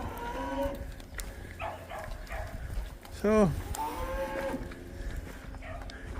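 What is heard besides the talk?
cattle mooing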